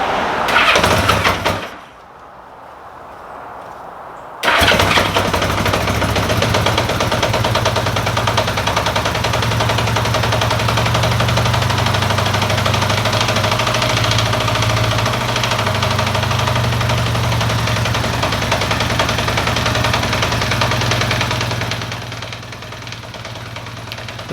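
Honda Goldwing motorcycle engine being restored, cranking briefly, then catching and settling into a loud, steady, slightly uneven idle on full choke, with a short pause before it fires.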